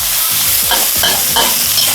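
Pork belly sizzles and crackles steadily in a hot pan, with scraping stir-fry strokes clattering every so often, close and loud.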